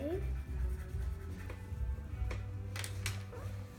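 A brown coloured pencil scribbles on paper in quick, close scratchy strokes, running under a low background hum with a few sharper scratches near the end.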